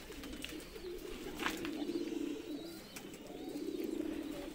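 A Shirazi pigeon gives soft, low throaty coos in a steady murmuring run, close by, with a faint chirp or two above a light background hiss.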